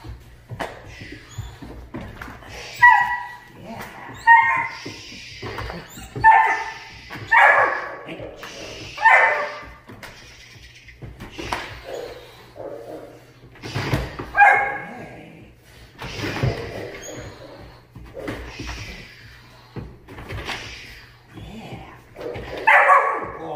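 A German Shepherd puppy yips, barks and whimpers in short bursts while tugging at a rag on the floor, with a person talking over and between the noises.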